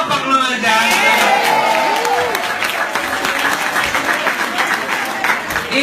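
Audience applauding at a 2017 leadership training event in Japan, loud sustained clapping with some cheering and whoops, while a voice carries on over the noise.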